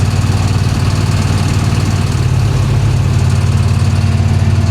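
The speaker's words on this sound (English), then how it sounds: "Maybe it's an exhaust leak. Yeah, that's what it is." Loud idling engine of a 1966 Chevy Impala with an exhaust leak, a rough, pulsing rumble and rapid ticking chuff, steady and close.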